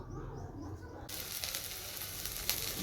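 Okra frying in a pan gives a soft, steady sizzle and crackle that grows fuller after the first second, heard close and quiet with no talk.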